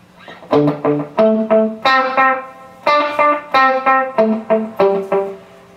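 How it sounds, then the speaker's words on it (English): Electric guitar through a delay pedal turned up to its longest delay time: a run of plucked notes, each echoed back in a steady rhythmic pattern, clear and upfront with no talking. "If you turn it all the way up, it's a really long delay."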